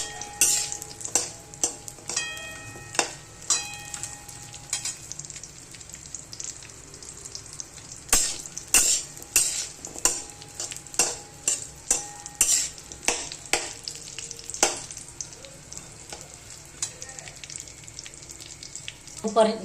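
Dried dates are roasted in oil in a pan, with a spoon scraping and stirring against the metal in irregular clinks over a soft sizzle, close and fairly quiet.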